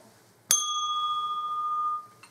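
A small red bell struck once, ringing out with a bright, sustained metallic tone that slowly decays over about a second and a half, heard alone in a quiet room.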